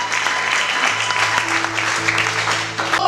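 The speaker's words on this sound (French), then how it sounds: "Acclamons le Seigneur." A church congregation claps and cheers in praise, a sustained loud wash of applause from a crowd filling the room, with faint tones and voices underneath.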